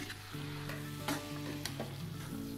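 Tomato gravy for a cauliflower fry roast sizzling in a pan while being stirred, a steady close hiss broken by several sharp scraping strokes, with a faint low hum underneath.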